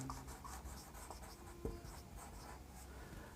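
Writing on a board during a spoken English lesson: faint, steady scratching and rubbing strokes that continue throughout, with no talking.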